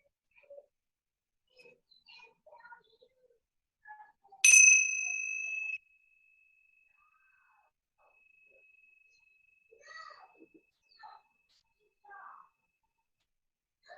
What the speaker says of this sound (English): I'm going to ring this bell again